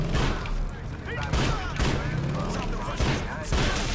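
Shootout gunfire in GTA 4 The Lost and Damned, with repeated shots and bursts rolling over a busy, dense game soundscape, loud and continuous with several sharper cracks, while someone talks over much of it.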